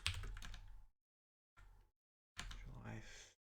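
Quick bursts of typing on a computer keyboard, close up, in three short runs separated by silent gaps.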